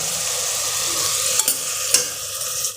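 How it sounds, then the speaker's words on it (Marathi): Coarse ginger, garlic, cumin and green chili paste sautéing in hot oil, a dense, steady hiss of frying with a few brief scrapes of a spoon, close and continuous, no talking. "हे वाटलेलं आलं लसूण जिरे आणि मिरचीचं वाटण घालूया, हे जरा थोडंसं जाडसरच वाटायचं आणि यामध्ये हे परतून घेऊयात"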